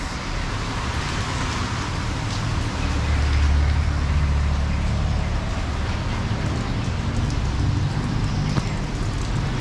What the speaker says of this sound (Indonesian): ternyata hujannya lebat